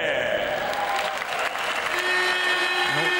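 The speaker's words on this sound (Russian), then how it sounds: "Итак, господа, ваши аплодисменты." Audience applause at a women's professional boxing title bout, a dense, steady roar of clapping filling the arena throughout with no break.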